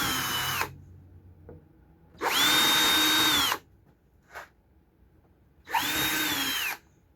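A power drill clears a screw hole while a luggage rack is fitted to a Can-Am Spyder, with three separate whirring bursts separated by pauses and a rising-then-falling whine in each longer run.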